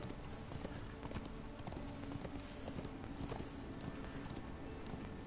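Horse hooves clip-clop steadily in Darksiders II, a continuous rhythmic trot of many quick, dense hoofbeats under ambient game sound.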